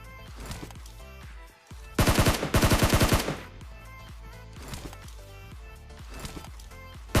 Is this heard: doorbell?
no